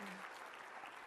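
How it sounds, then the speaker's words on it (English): Audience clapping steadily throughout at a live software demo, a dense wash of applause from a crowd with no other sounds standing out. "I think you can clap."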